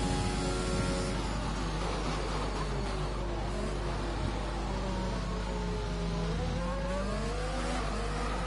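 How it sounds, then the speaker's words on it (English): An F1 race car in a video game sits on its rev limiter, a steady buzzing engine drone with faint tire noise that holds level and fairly loud throughout, no talk over it. "Oh, right on the rev limiter."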